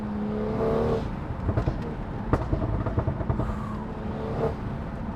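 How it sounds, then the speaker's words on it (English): A BMW X3 M40i engine rumbles and revs up close, with sharp crackling pops from the tuned exhaust scattered through the sound. "I really hope those pops are coming through because, man, they're insane."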